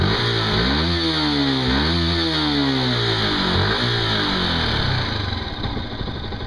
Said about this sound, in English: It doesn't sound too bad when you give it a bit of revs though.